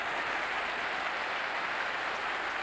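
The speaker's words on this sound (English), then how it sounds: "The applause rings round Upton Park." Steady, dense applause from the football crowd at Upton Park during West Ham United versus Ipswich Town, a broad even roar of clapping with no break.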